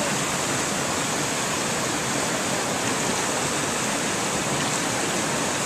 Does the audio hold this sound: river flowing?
yes